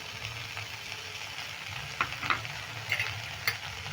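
Spiced vegetable filling for a vegetarian roll, seasoned with Kashmiri chilli powder and a little sugar, sizzles steadily in a pan, with a few sharp scrapes and clicks as a spoon stirs it. No one speaks.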